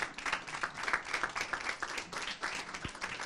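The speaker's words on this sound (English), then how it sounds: "So a round of applause for all the volunteers" Scattered hand clapping from a gathered crowd thanks the volunteers at a local race, uneven pulses of claps with a few louder bursts, moderately near.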